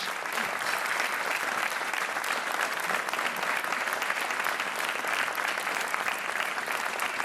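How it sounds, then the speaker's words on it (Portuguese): Sustained studio audience applause on a Portuguese TV quiz show, dense steady clapping from a large crowd that holds at an even level for several seconds without a break, no voices heard over it. "um grande aplauso para a super joker Isabel."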